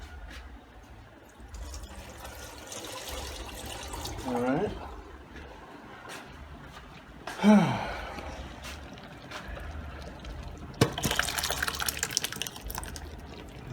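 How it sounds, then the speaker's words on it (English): Water from cooked peas is poured off in a kitchen, with intermittent splashing and trickling of liquid at moderate distance while people talk throughout. "Just pour off some of the peas water."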